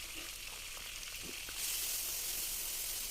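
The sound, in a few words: galangal, ginger, lemongrass and bay leaves frying in leftover oil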